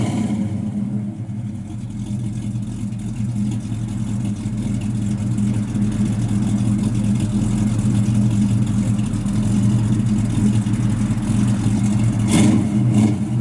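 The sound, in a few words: old pickup truck engine revving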